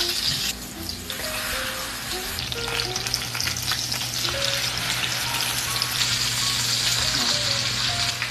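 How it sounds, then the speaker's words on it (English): Olive oil and pats of butter sizzle loudly in a pan over high heat, a continuous bright crackling hiss with some clinks and stirring underneath, and no one speaks. "My pan is on high. I'm adding olive oil, a few pats of butter."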